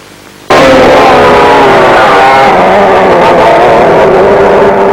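McCulloch kart engines from 1961 racing: a loud, buzzing two-stroke roar cuts in abruptly after a brief quiet start and holds steady and close, with a slight shift in pitch as the karts run.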